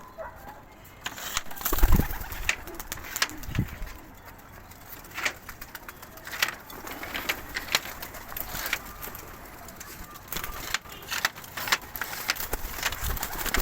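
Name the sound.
pigeons cooing as they are let out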